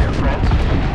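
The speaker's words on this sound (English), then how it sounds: "Call in the airstrike." Booming airstrike explosions in the battle-royale game Apex Legends form a loud, deep, continuous rumble with overlapping blasts across a single second.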